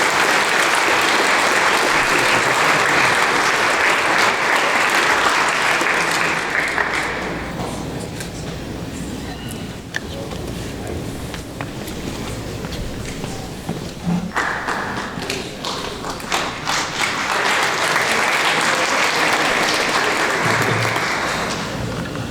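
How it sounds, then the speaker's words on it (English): Audience applause fills a hall at a sports hall of fame ceremony. Loud clapping runs steadily, dips to a softer patter midway, then swells again. "I'd like to give a round of applause to the groups that put it together."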